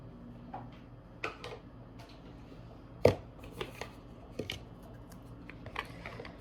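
An oracle card deck being shuffled by hand: a quiet run of soft riffling rustles and sharp card snaps, close and fairly faint, with no talking.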